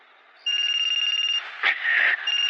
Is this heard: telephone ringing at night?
yes